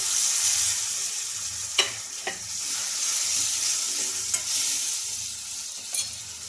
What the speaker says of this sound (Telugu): ఇప్పుడు ఇందులోకి ఇలా చిన్నగా కట్ చేసుకున్న టమోటాలు అయితే వేసుకోవాలండి